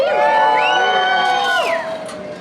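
A crowd at the Electrify Expo cheers and whoops for the Cybertruck presentation, loud and close, with high shrill shouts rising over the roar before it tapers off.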